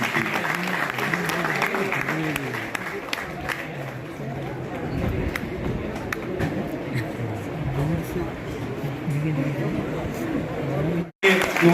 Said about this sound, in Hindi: एक बार माल्यार्पण करते समय तालियां बजनी चाहिए, दो बार तालियां